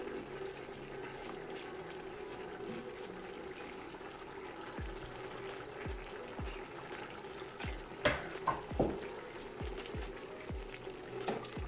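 Vegetables for sataraš sizzle and bubble in a pan, a soft continuous fry with repeated stirring knocks and scrapes that grow busier toward the end.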